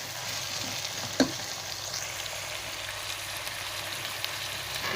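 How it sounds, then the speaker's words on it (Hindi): Chicken frying in a pan for Thai fried rice, a steady soft sizzle running throughout with one brief sharp clink of a utensil early on, no voices. "इसको 5 मिनट हमने मज़ीद फ्राई किया है।"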